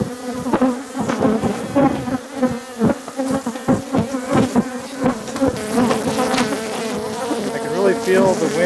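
A dense swarm of bees buzzes loudly around a hive, a continuous close-up drone with wingbeats rising and falling as individual insects pass near.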